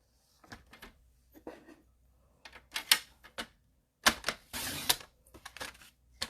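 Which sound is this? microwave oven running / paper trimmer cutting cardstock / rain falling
paper trimmer cutting cardstock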